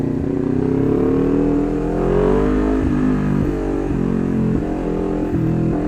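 A Kawasaki Ninja 400 motorcycle with an Akrapovic full-system exhaust revs loudly and close, its deep exhaust note rising then settling into a rough, pulsing idle with a few throttle blips.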